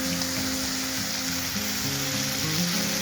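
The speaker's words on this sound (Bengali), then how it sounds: "হলুদটা দেওয়ার পরে আমি আবার একটু নেড়ে চেড়ে নেবো বন্ধুরা" Prawns stirred with turmeric in a hot frying pan, a steady, close sizzle and crackle of frying running throughout with no talk over it.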